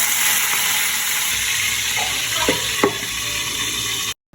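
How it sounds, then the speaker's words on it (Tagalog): Dried milkfish (daing na bangus) frying in a pan, a constant close sizzle with a few brief scrapes and clicks before it cuts off abruptly. "dahil may sausawan tayo na masarap ay magpiprito ako ng daing na bangus"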